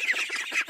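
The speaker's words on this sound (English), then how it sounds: "gosling," A gosling gives a quick run of thin, high-pitched peeping calls, rapid and close, lasting under a second with nothing else heard.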